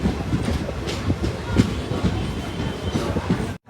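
A train rolls through a railway station at Abhaypur in Lakhisarai district, Bihar, with a rhythmic clickety-clack of wheels over rail joints, moderately loud and steady before stopping abruptly.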